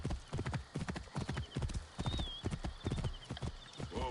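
Horse hooves clip-clop in a steady walking rhythm in the video game Assassin's Creed Origins, close and clear, with a faint whinny near the end.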